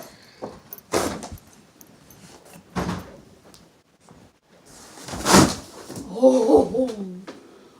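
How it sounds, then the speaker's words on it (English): A door in a car or room thuds shut and locks with clicks and a jangle of keys, a few sharp knocks spaced apart, with people talking nearby. "lock the door real quick"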